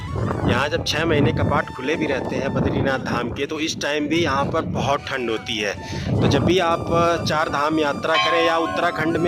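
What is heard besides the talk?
strong wind at Badrinath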